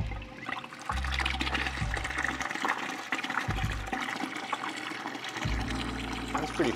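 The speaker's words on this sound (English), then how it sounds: "We're gonna try sucking some water up." A budget diaphragm pump primes and draws up water, its motor switching on and off in pulses between bursts of gurgling, splashing flow heard close up, with no talking.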